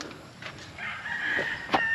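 Farm chickens and turkeys cluck and call in the background on a free-range farm, with a rooster-like crow rising midway, moderately distant over a steady ambient hum.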